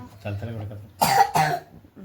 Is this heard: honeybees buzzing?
no